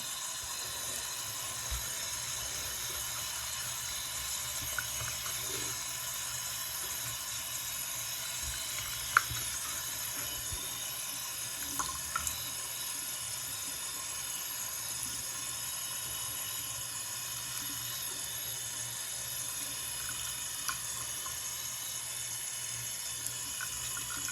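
Tap water runs steadily into a sink while makeup brushes are rinsed, a constant close hiss and splash with occasional small clinks and bumps, with no talk over it.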